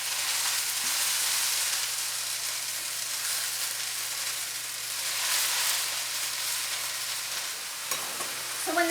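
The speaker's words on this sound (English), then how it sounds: "Just be careful when you add them to the pan because they'll sizzle a lot" Wet dandelion greens hiss and crackle loudly in a hot pan, a steady, close sizzle with a brief clatter of stirring near the end.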